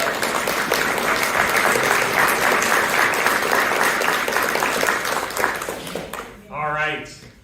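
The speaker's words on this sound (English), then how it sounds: "I'd just like to give her a round of applause." A room full of people gives a sustained round of applause for Mary at a community center event, dense clapping holding steady for about six seconds before tapering off and giving way to a brief spoken voice.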